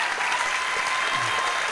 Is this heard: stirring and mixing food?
no